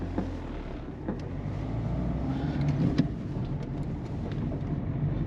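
Peugeot 207 on a test drive with a possible clunk fault, giving a steady low engine and road rumble from inside the cabin with a few faint knocks and no talk.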